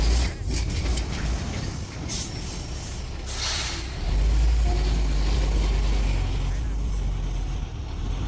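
A heavy 100-ton truck grinds up an 8% mountain grade with a deep, steady engine rumble that swells louder midway, with a voice speaking over it.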